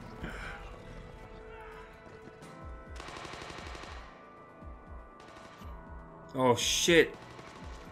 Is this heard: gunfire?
yes